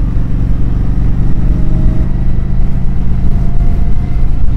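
A 2015 Kawasaki Vulcan 900 Custom motorcycle rides along with its throttle revving, a loud, steady engine roar that rises and pulses in a thick low growl.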